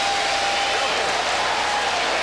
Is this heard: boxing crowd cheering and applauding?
yes